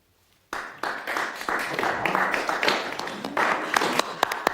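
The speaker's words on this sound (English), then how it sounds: "Methought I did hear the groundlings applaud." Applause from an audience in a theatre starts abruptly after a near-silent moment, a steady patter of many hands clapping, moderately loud and sustained to the end.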